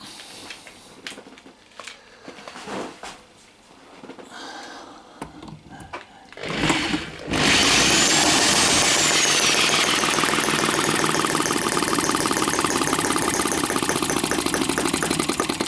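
A Microcosm M12 small petrol model engine idles. After some quieter handling noises, it settles into a loud, steady, high buzzing drone that runs close and unbroken to the end.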